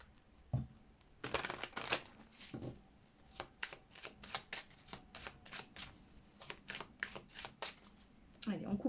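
A deck of oracle cards is shuffled and cut in a quiet room, giving a rapid, irregular run of soft riffling bursts, close and faint, with a voice speaking at the start and end.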